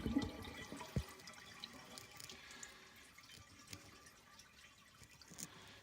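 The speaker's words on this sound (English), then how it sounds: "go ahead and flush and hold it" A newly installed toilet is flushed and held down, water rushing and gurgling as it drains, quiet and close with a soft trickle trailing off.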